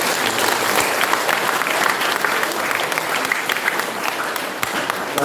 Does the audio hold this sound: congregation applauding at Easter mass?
yes